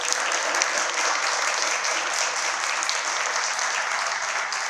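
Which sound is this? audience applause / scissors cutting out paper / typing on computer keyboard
audience applause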